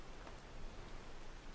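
Steady rain falling in rainy Markarth, a city in a fantasy video game: a dense, even hiss of rainfall with a soft patter, continuous and moderately loud, no voices.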